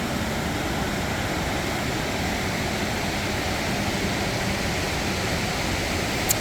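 The raging Fraser River in British Columbia, a steady, loud, unbroken roar of rushing water that stays even throughout.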